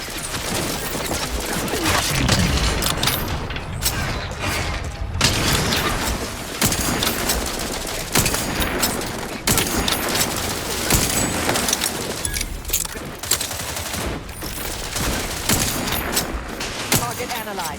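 Continuous heavy gunfire in the video game The Outer Worlds 2, with dense overlapping shots, booms and automatic bursts throughout, and game voices speaking underneath.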